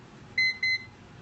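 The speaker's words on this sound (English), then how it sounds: "It'll beep at you." Two short electronic beeps from a Time Timer visual countdown timer reaching the end, close and clear, the pair evenly spaced over a quiet room background.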